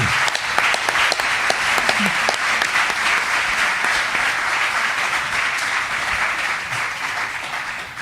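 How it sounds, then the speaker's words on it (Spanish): An audience applauds sign language interpreters, with dense, sustained clapping from a crowd that stays fairly even throughout and tapers slightly at the end. "un aplauso para las traductoras"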